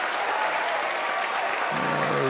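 A home crowd roars and applauds at a high school boys' basketball sectional semifinal, a dense, continuous wall of cheering with no break.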